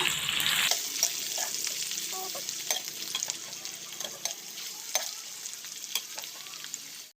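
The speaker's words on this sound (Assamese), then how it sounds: "পিঁয়াজখিনি আমি ব্ৰাউন কালাৰ হোৱালৈকে ভাজি থাকিম" Onions with bay leaves frying in hot oil for a chicken curry give a steady, close sizzle, punctuated by the scrape and clack of a stirring spoon, fading out at the end.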